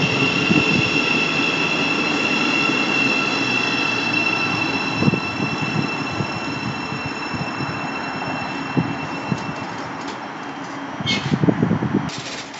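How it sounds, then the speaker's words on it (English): A Thameslink Class 700 electric train, unit 700-042 on a Luton to Rainham service, pulls into Mill Hill Broadway station with a sustained high electric whine over a rolling rumble that gradually softens, closing with a few clunks and rattles. "incoming here is the service from Luton to Rainham. Right by 700-042."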